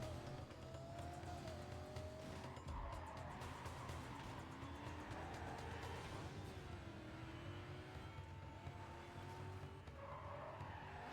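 Race cars in Need for Speed: Carbon roar steadily through an overtake, a continuous engine drone with rising and falling pitch sweeps and faint tire squeal, loud and unbroken with no talking.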